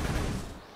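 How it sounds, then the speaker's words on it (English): Collision in the game Deeeer Simulator, a single booming cannon-like blast that decays over under a second, loud and alone. "Every time I run into something, it sounds like someone's shooting a cannon."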